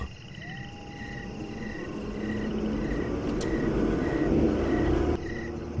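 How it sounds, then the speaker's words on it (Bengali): Car driving through dense forest at night, staged as a story sound effect: a steady low engine rumble grows slightly louder while rhythmic chirps of frogs or insects repeat in the background, and no one speaks. "ওদের গাড়িটা ঘন জঙ্গলের মধ্যে দিয়ে এগিয়ে যাচ্ছিল"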